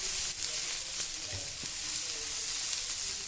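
Soya chunks sauté in oil with turmeric and chili powder in a pan, a steady close sizzle with faint stirring scrapes throughout and no talk.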